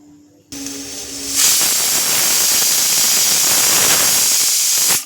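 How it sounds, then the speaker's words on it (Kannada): A pressure cooker's loud, steady hiss of steam bursts out after a short low hum and keeps blasting evenly before cutting off abruptly. "ಕುಕ್ಕರ್ ಮುಚ್ಚಳ ಮುಚ್ಚಿ ಒಂದು ಮೂರರಿಂದ ನಾಲ್ಕು ಕೂಗು ಕೂಗಿಸ್ಕೊಳ್ಬೇಕು"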